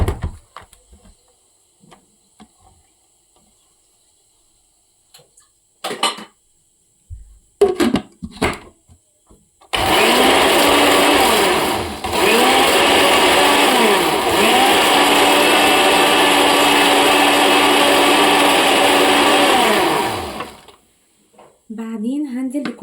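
A blender whirs loud and steady for about ten seconds, beating orange cake batter of sugar and other ingredients, with brief clatter before it starts and a short drop in speed partway through.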